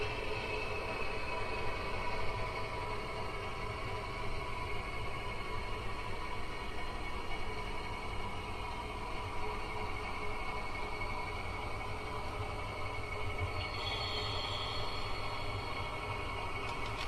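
A model V2 steam engine train runs steadily along its track, giving a continuous rumbling, hissing clatter at moderate level throughout, with no pauses or voices.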